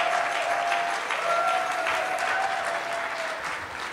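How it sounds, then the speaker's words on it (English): An audience breaks into a sustained round of applause at a banquet gathering honoring a guest from Los Angeles, steady dense clapping filling the room for the full stretch and easing slightly toward the end. "Rosie, stand up and take a round of applause."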